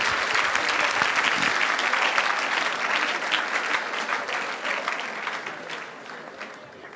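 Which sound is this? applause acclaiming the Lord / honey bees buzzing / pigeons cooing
applause acclaiming the Lord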